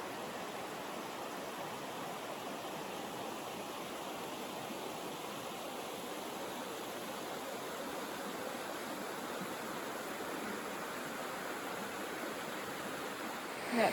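Panther Creek flows through forest along the Pacific Crest Trail in Washington, a steady close rushing of water that stays even throughout, with no talking.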